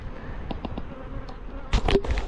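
Honey bees buzzing around a swarm at an apiary, a soft close buzzing with brief louder passes of individual bees near the end, heard alone.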